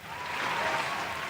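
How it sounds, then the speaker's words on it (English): A short burst of recorded applause played as a sound effect on a talk podcast, dense steady clapping from a crowd at even volume throughout, with no voices over it. "I hit the round of applause."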